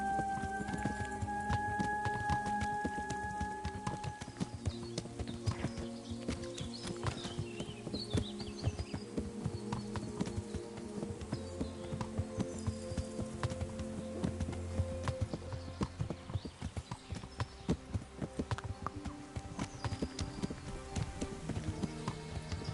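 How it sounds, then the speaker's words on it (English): Horse hooves clip-clopping at an easy walking pace in the video game Kingdom Come: Deliverance, a steady rhythmic run of hoofbeats under background music and ambience, with no voices heard. "I wonder if going at this pace tires the horse at all."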